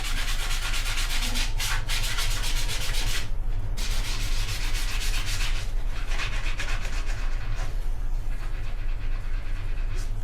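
Foam scrubbing against rubbery Crocs clogs during cleaning, a steady close rasping rub that continues throughout with brief pauses and no talking.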